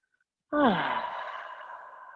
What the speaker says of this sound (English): Couple big inhales and exhales.